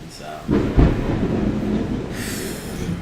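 Thunder rumbling outside during a storm, a deep low rolling boom that swells suddenly and lingers for a few seconds, heard from indoors.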